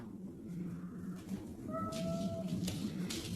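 A pet cat gives a short, clear meow partway through, close by, over a low steady background hum with a few faint rustles.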